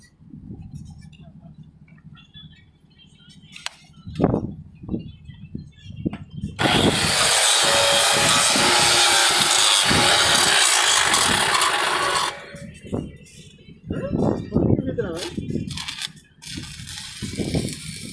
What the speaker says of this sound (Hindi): अभी देखिए ये एसएमडब्ल्यू वेल्डिंग प्रोसेस अप्लाई किया जा रहा है।